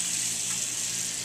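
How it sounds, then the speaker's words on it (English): Steady hiss of tap water running during handwashing at a dental hygiene clinic sink, a soft continuous stream with no voices. "When you wash, make sure the water runs off your fingertips and not towards your elbows."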